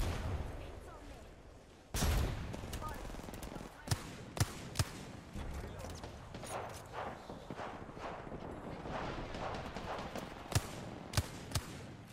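Gunfire in a shooter video game: sharp single shots and short bursts stand out over a steady backdrop of game sound, with a player talking at times.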